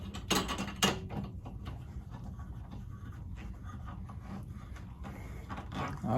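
Clicking, ratcheting mechanical creaks of an adjustable tufting frame being tightened, with a couple of sharp louder clacks near the start and steady low rattling and handling noise throughout, no talk.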